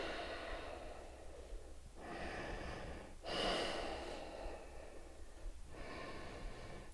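Slow, deep breaths in and out during a yoga stretch, close and soft, with several long exhales and inhales in an even rhythm and no talking.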